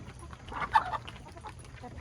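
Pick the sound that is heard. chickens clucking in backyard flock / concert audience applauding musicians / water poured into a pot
chickens clucking in backyard flock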